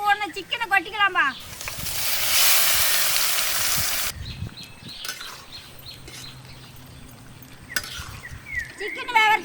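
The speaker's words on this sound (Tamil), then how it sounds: "சாந்தூரில் ஊறின சிக்கனை கொட்டிக்கலாம்பா." Marinated chicken tipped into a pan of oil with cumin and fried onions in a village kitchen, a burst of loud sizzling followed by scraping and stirring, with talk at the start and end.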